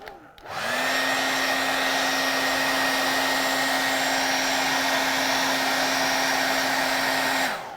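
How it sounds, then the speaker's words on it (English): A hair dryer switches on and blows steadily at painted tempera scratch-art pieces, a loud close whine with a constant pitch that runs unbroken until it cuts off at the end. "you have to blow dry them"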